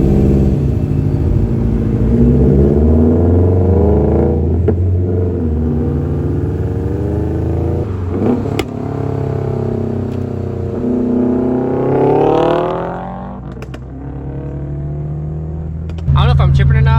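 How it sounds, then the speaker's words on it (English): Subaru WRX STI engine running loud and close, its rumble rising and falling with revs while a faint turbo spool whine climbs through the middle, ending in a brief drop before the engine swells again. "I can hear the turbo more. It's like a little, like, I don't know what you, like a spool or like a little whine."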